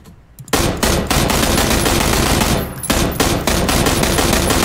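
Rapid automatic gunfire in PUBG rattles loud and close in long sustained bursts, broken by a brief pause, with no voices over it.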